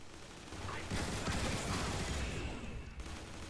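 Turret gunfire rattles against Decepticon seekers in the game Transformers: War for Cybertron, a dense, continuous burst of rapid mechanical shots with explosive noise, loud and sustained throughout.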